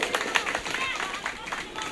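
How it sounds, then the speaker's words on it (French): Audience applause at a local gathering in Senegal, short bursts of clapping mixed with crowd noise and overlapping speech, moderately near. "Applaudissez."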